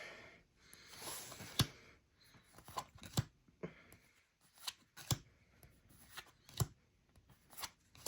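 Terrain and plant game cards are handled during an unboxing: repeated soft slaps and rustles come at an irregular rhythm, close and fairly quiet, with no talking.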